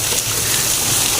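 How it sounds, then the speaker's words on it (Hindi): A sudden stormy rain pours down in a village, a dense, loud, continuous hiss of rain striking surfaces nearby, with no voices. "बारिश आ गई है, अचानक बारिश है, ये इतनी तूफानी बारिश।"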